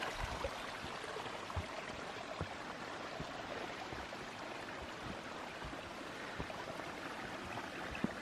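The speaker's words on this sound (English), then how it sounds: "You get to hear this beautiful running water" A mountain stream on the slopes of Mt Shavano in Colorado rushes steadily over rocks, a dense, even wash of running water close by with faint splashes and no talk.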